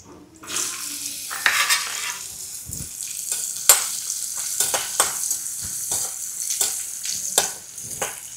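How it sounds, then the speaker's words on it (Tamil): Cashews and raisins frying in ghee, with a loud, crackling sizzle broken by repeated clinks and scrapes of a spoon against the pan. "நெய்யில் விட்டு முந்திரி சலை திராட்சையெல்லாம் வறுத்து எடுத்துக்கிறோம்"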